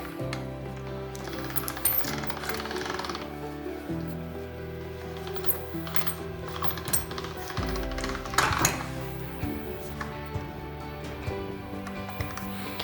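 A hand-cranked pasta machine feeding fresh dough through its rollers, giving a steady mechanical whirring with rhythmic clicks and knocks, close by and continuous.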